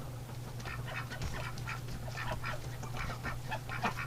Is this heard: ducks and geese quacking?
yes